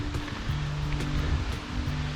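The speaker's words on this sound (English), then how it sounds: "these waterfalls are spectacular" Waterfalls in Pisgah forest rush with a steady, broadband roar of falling water that stays constant and close throughout, with no talking.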